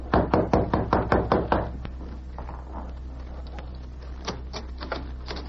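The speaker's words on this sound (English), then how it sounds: "He knocked on the door." A quick run of about eight firm knocks on a wooden door sounds close and loud, then stops, leaving quieter room noise and a few soft taps in an old radio drama.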